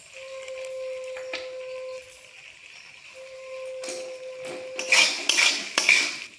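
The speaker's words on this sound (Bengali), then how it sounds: "আলুর সঙ্গে ছোলাটাকে একটু মিশিয়ে নেব।" Chickpeas are stirred together with boiled potatoes in a metal pan. A spoon scrapes and clinks against the pan, building to louder rhythmic clatters near the end, with a steady tone humming underneath at first.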